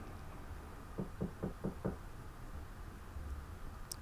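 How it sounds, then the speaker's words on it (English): Five quick, evenly spaced knocks on a door, heard alone against a quiet room, close and fairly soft, followed by silence. "You woke up to the sound of someone knocking on the door."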